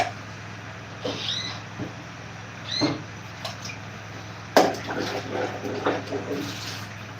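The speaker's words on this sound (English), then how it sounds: "Let me rinse it." Water rinsing a mortar, with gentle splashing and trickling, intermittent small spills and clinks over a steady low hum, close by, no speech.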